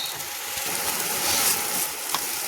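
Grated carrot halwa with desi ghee sizzles in a pan as it is stirred until the water dries off, producing a steady close-up frying hiss with faint scraping.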